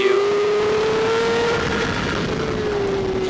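A 2012 BMW superbike with a kit ECU and traction control accelerates hard on a race track, its loud, close engine holding one steady note that climbs slightly in pitch without a break.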